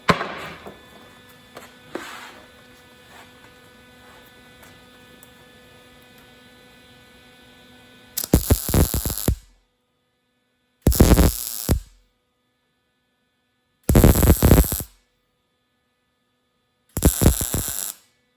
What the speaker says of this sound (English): When I weld this sort of thing, I tend to start on the thicker piece and let it melt down into the thinner piece.